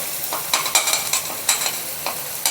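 Chopped boiled tomatoes cook in a pan for pasta, a close steady sizzle with sharp scraping strokes of a spoon stirring at an irregular pace, and no voices.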